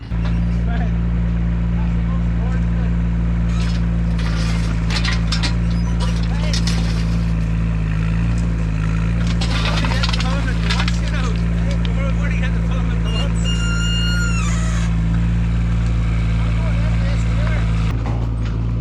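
A small digger digs a post hole for setting gate posts, its diesel engine droning loud and close in a steady low rumble, with scattered knocks and scrapes from the work on top.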